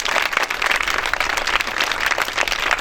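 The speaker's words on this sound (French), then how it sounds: "je voudrais qu'on les salue en les applaudissant." Dense crowd applause at a public ceremony in Côte d'Ivoire, continuous and even, many hands clapping together throughout.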